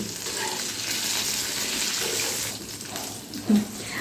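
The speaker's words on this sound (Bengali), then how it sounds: "এই পেঁয়াজের ফুলগুলো ভাজতে কিন্তু চার থেকে পাঁচ মিনিট সময় লাগবে" Onion flowers fry in hot oil, giving a steady broad sizzling hiss that holds throughout at moderate level, with a brief louder clack near the end.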